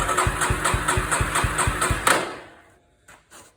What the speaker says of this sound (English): turn the key on, see how it runs